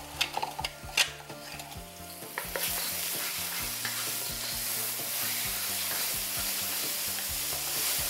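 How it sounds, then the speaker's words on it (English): A few clinks and taps, then loud continuous sizzling of julienned ginger frying in a hot pan, with a low background tone underneath. "you can probably hear the sizzling sound"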